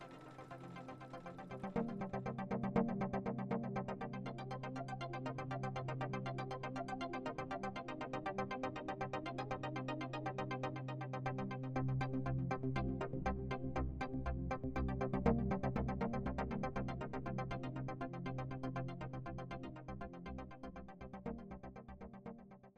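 An embroidery machine stitches a quilt design in the hoop, a steady mechanical hum with a fast, even needle rhythm running continuously and fairly loud throughout.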